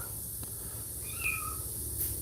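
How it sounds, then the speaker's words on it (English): Faint, high kitten mews come through a steady background hiss, a couple of thin cries close together. "We got another litter of little kittens."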